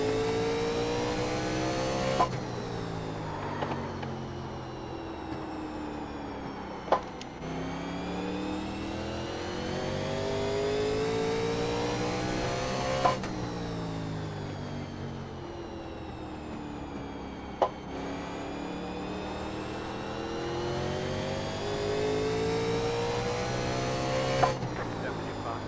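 A NASCAR race car in NASCAR Legends laps Martinsville, its engine climbing in pitch down each straight, then dropping sharply into the corners, a cycle repeated several times with brief clicks at each lift.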